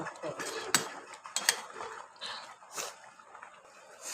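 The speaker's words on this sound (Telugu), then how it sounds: "ఇలా కొంచెం అటు ఇటు ఇలా కలుపుతూ ఉండాలి" A spoon stirs salted food back and forth in a cooking pot, giving a few sharp metallic clinks and scrapes against the pot's side amid a soft, continuous rustle close by.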